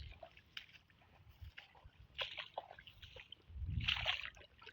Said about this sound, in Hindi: मतलब पानी पानी होते हुए चलेंगे।